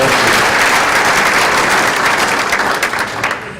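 A loud audience at an event for manufacturers, vendors and sponsors breaks into full, dense applause that stays strong and then begins to thin and patter out toward the end.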